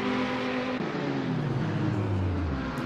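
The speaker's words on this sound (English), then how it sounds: "I hear cars going" Racing cars roar in a sim racing game during a GT sprint race at Road Atlanta, a steady loud engine drone with the pitch sliding down as the cars decelerate.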